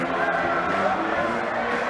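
Basketball arena crowd at a Wheaton vs. Elmhurst college game cheering loudly during a timeout, a dense, sustained roar of many voices with no clear break.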